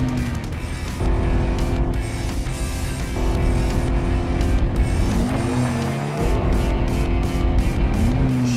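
A Cadillac ATS climbs uphill through the Monaco street circuit, its engine droning loud and close with gear shifts and rising revs, plus brief tire noise.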